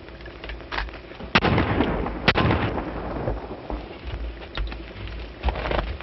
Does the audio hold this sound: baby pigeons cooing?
no